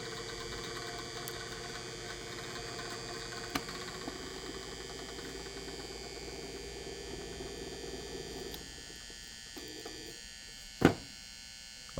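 Small fans powered through small transformers driven by an audio amplifier give a steady electric buzz with a hum beneath it, continuous and fairly close, easing off near the end, with a couple of sharp clicks late on.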